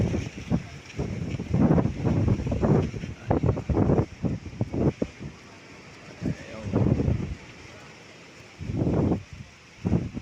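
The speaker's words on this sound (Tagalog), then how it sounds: "Taas ng dagat, taas ng hangin." Strong wind off a high sea buffets the microphone in heavy, roaring gusts that rise and fall, with a faint wash of water underneath, as rain approaches.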